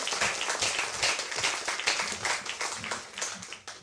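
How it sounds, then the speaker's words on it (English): Audience applause for debate panelists at a Toastmasters and skeptics event, a steady wash of clapping from a room full of people, moderately loud and continuous throughout. "Another round of applause for all of our panelists."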